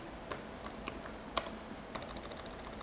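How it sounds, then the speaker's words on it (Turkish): A computer keyboard clicks as a scenario name is entered into a form, sparse, close, light keystrokes at an uneven pace, alone without talk. "Senaryo detayı kısmında senaryomun adını yazıyorum."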